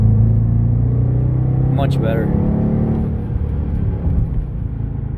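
2018 Dodge Charger R/T with a 5.7L Hemi V8 accelerating hard from about 45, a loud rising engine rumble heard from inside the cabin, briefly under a short spoken remark.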